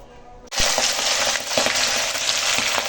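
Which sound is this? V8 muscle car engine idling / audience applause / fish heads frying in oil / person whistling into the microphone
fish heads frying in oil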